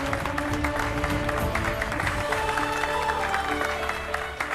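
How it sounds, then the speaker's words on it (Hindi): Children clapping together in a staged ceremony scene, a sustained, even patter of applause from a group, with background music tones running underneath. "सब बच्चे ताली बजाएंगे। बजाओ ताली।"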